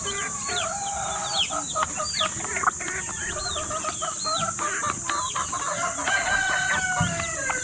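Chicks in a mini farm peep and chirp busily on day two of rearing, many high chirps overlapping continuously, with a rooster-like call mixed in, over a low background hiss.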